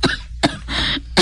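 A person coughs in quick, sharp bursts, four of them in just over a second, loud and close with short breathy gaps.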